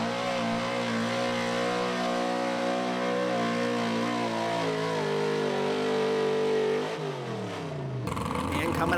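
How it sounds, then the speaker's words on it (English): A 1983 Chevy big block 4x4 pulling truck at a truck pull in Fishersville, Virginia, its engine screaming at sustained high revs down the track, loud and steady before the pitch drops near the end. "1983 Chevy just screaming down the track."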